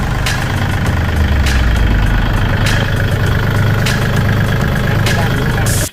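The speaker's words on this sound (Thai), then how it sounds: "ตัวนี้เครื่องเดิมนะครับไม่เคยแกะไม่เคยรื้อนะครับ เครื่องดีนะครับไม่มีไอนะครับ" A used Kubota L3608 DT tractor with its original, never-rebuilt engine idles close by, giving a loud, steady low rumble with a few sharp clicks recurring at intervals.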